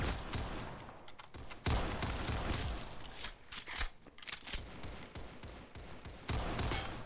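Gunfire in the Roblox game Counter Blox: bursts of rapid shots and sharp cracks in irregular volleys, some loud and close, others farther off, with brief gaps between the bursts.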